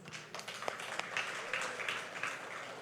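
A church congregation claps during a sermon, a soft, somewhat distant patter of applause that holds steady for about three seconds.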